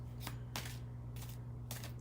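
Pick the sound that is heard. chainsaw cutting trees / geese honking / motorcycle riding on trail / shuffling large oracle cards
shuffling large oracle cards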